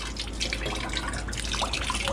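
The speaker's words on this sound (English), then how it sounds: "So we're gonna let all the water out of our oil filter" Water draining and splashing out of an opened engine oil filter in the bilge of a ship, a steady trickling pour with small drips, close and continuous with a low hum beneath.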